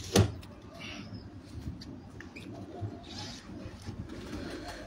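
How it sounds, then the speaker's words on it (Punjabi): Chini pigeons coo softly on a rooftop loft in Faisalabad, with a few low, muffled calls and a brief louder flutter-like knock near the start. "ਚੀਨੇ ਕਬੂਤਰ"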